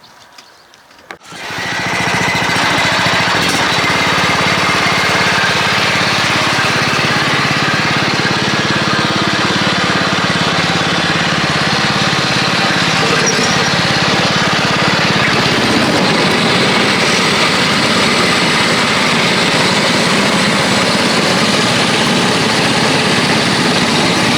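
A John Deere X110 automatic ride-on lawn mower engine starts after a brief quiet moment, then runs loud and steady for the rest of the clip, a close, constant mechanical roar with no speech.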